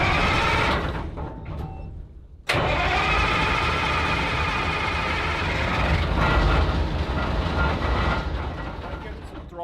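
Engine cranking, then catching at about two and a half seconds and settling into a loud, steady idle that runs on alone for the rest of the clip, with a faint voice early on.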